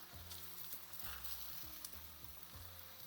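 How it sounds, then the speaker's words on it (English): Stuffed paratha frying in a pan with ghee over medium heat gives a faint, steady sizzle that runs unbroken under a low, quiet background hum. "now you start frying this"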